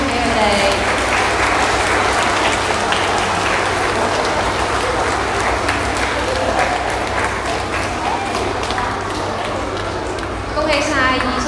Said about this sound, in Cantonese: 我哋俾啲熱烈嘅掌聲